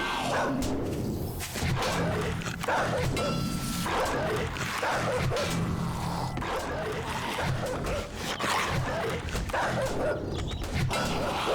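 A dog barks in the 7 Days to Die Alpha 18.4 survival game, its yips buried in a dense, steady wash of loud game noise with little pause.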